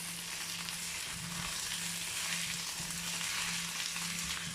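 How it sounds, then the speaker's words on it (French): Boiled potatoes sautéing in a pan as they begin to brown, a steady close sizzling hiss with a low hum underneath, continuous and moderately quiet with no talking. "Ça commence à bien griller."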